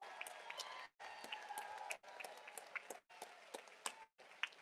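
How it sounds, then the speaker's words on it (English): A crowd at a voting-rights rally town hall applauds and cheers in steady bursts, the clapping broken by brief silent gaps, with voices mixed into the noise. "I want y'all to keep clapping"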